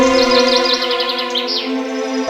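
Bird chirps and tweets sound over a steady tonal background that resembles music, with one pigeon present in the scene.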